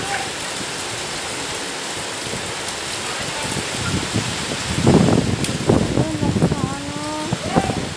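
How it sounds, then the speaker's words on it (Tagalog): Heavy rain falls as a constant broadband hiss near papaya and mango trees, with someone talking over it in the last few seconds. "umuulan kaya"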